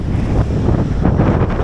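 Strong wind buffets the microphone on a sandy beach, a steady, loud roar with breaking surf blended underneath and no pauses.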